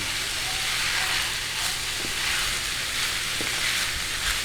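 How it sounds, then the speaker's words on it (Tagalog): Chicken sisig sizzles steadily in a hot pan with soy sauce and pepper, a constant bright frying hiss with faint scraping stirs now and then, close and even, with no talk over it. "Atin lang pong gisa-gisahin."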